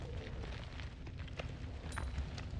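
Explosion in the roguelike video game Noita, a dense rumbling blast with crackling bursts and pops spread across the whole stretch, steady and fairly loud with no talk over it.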